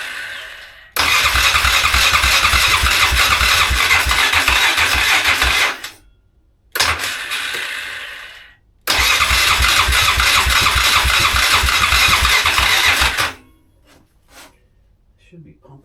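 A 2001 Polaris Sportsman 500 HO ATV engine runs loud and close with a steady rumbling roar, briefly dropping and sputtering midway, then revving again before cutting off into near silence.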